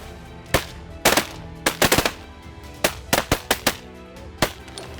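Shotguns fire at mallard ducks during a hunt: about ten sharp, loud blasts, some overlapping in quick clusters, spread irregularly over several seconds with quiet gaps between.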